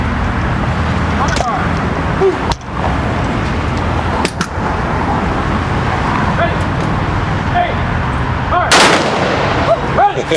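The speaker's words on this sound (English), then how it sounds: "Honor guard! Prepare to fire! 3 volleys!" Honor guard rifle volleys ring out at a memorial dedication for a sheriff's deputy: several sharp, loud outdoor cracks spaced seconds apart, over steady background murmur and traffic-like ambience with people speaking nearby.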